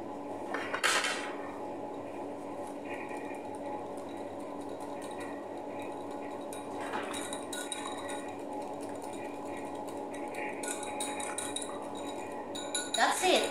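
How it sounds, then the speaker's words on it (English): Thyme salad ingredients being mixed in a bowl, with utensils clinking and scraping against the dish in scattered bursts over a low steady background. "Then mix well until combined"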